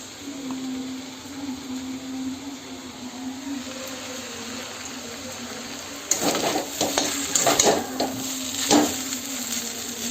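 Chow mein sizzling in a pan as chili paste, tomato ketchup and soy sauce are stirred in; a steady frying hiss with a low hum, then several loud clattering scrapes of the utensil against the pan.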